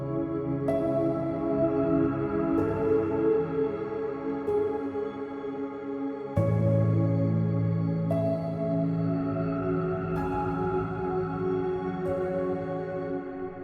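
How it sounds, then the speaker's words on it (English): Soft piano chords with airy, ethereal pad layers in the verse of a song, a gentle sustained bed with sparse notes entering every couple of seconds and a fuller low swell midway. "just a very soft piano and kind of these ethereal elements"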